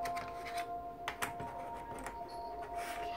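Small plastic number pieces from an Osmo Numbers kit being pulled out of their packaging, giving a run of light, close clicks and taps with no talking.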